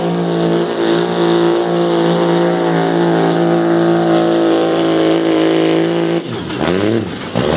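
A pulling truck named Larry from Somerset, Ohio roars at a truck and tractor pull in New Lexington, its engine a loud, steady, harmonic drone held at high revs before the pitch sweeps and wavers near the end.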